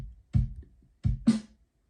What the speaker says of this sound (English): then I put in snares.